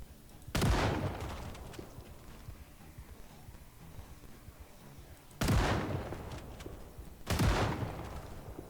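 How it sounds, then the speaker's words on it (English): Three loud, sharp shotgun blasts, each a sudden crack with a decaying tail, spaced irregularly with the last two closer together, set against a low background of faint noise. "I love the shotgun though."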